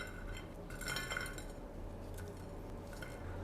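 Crispy fried beef dry fry is placed onto a serving plate in a home kitchen, with faint clinks of cutlery against the dish and light scraping, quiet and close with a low background hum.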